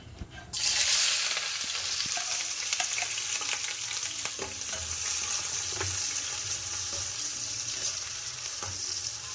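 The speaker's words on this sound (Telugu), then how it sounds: "ఆనియన్స్ మిర్చి వేసేసుకున్నాం" Onions and green chilies hit hot oil in a pan for a masala chicken curry, bursting into a loud, steady sizzle after a brief quiet start and crackling on without any talk.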